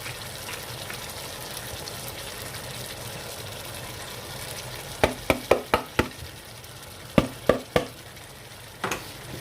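A steady frying sizzle of tempered spices being added to moong dal runs throughout, broken midway by clusters of sharp stirring clacks from a utensil against the pot.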